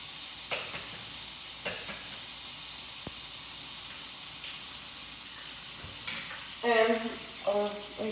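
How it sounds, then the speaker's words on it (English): Eggs for an omelet fry in a home kitchen pan, giving a steady soft sizzle with a few sharp clinks of utensils, and a voice speaks briefly near the end. "I'm gonna make my eggs real quick, make my omelet"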